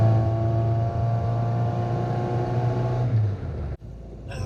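A Classic Mini with a 998 stage 1 automatic engine rumbles steadily while driving, a low continuous drone heard from inside that drops off near the end with a brief pause before picking back up.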